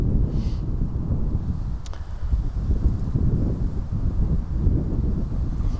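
Strong wind batters a microphone outdoors at an airport, with a continuous loud, low rumbling roar and buffeting that holds for the whole stretch and includes no voices.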